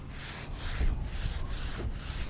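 Steady rough rubbing and scrubbing strokes of a clay mitt on a Honda CR-V's paint, close up, sweeping back and forth in a repeated rhythm with no talking.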